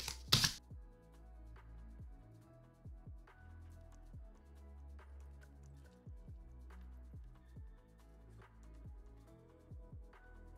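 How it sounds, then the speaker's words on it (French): Quiet, close scraping and soft pressing strokes as paper is creased with a bone folder, repeated in short irregular bursts after an initial sharp rustle. "Je prends mon plioir ou mon couteau à plier et je viens faire tous les plis"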